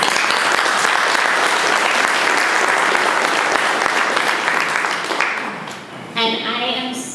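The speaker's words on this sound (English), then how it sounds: "give them another round of applause" Steady, dense clapping from an audience at a construction industry apprenticeship event fills most of the stretch, then tapers off as a speaker begins talking near the end.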